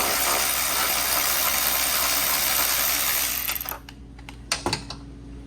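A ratchet turning out a 10mm bolt on a Pontiac Grand Prix headlight: a dense, fast clicking run that stops, followed by a few faint clicks and taps close by.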